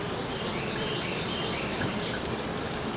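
Honeybees buzzing in an open swarm hive during inspection, a dense continuous hum close by, steady and even throughout, with no voices.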